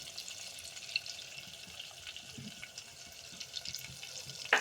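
Ajwain and chillies frying in oil for Khandeshi brinjal bharit, a faint, steady sizzle with a few small crackles and a louder pop at the end.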